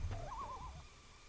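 Owl hooting in the video game Zelda Majora's Mask: a single wavering, sliding hoot, fairly faint, over a low ambient game background with no talk.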